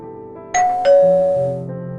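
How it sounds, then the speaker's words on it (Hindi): A doorbell rings at a house's front door in a narrated story, a clear two-tone ding-dong chime, close and loud, its second tone ringing out and fading over a quiet background. "घर की घंटी बजते ही मीनाक्षी जी ने आकर दरवाजा खोला।"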